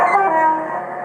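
A steady tonal horn blast from an OO gauge model train, with stacked harmonics, sustained for about a second and slowly fading, close and fairly loud.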